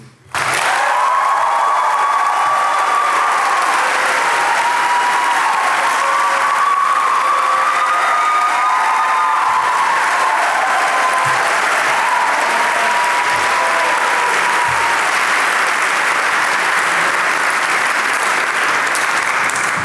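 Sustained applause from a large crowd at a university academic awards convocation, steady and loud throughout, with no talking over it.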